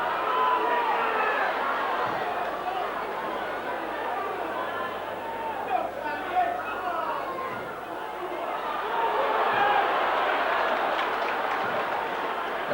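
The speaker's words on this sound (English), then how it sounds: "The roar from the crowd, just seeing the kick again." Large crowd at a Wigan versus Brisbane rugby league club match in 1997, a broad continuous roar and chatter from the stands, swelling slightly toward the end, with a commentator's voice running over it.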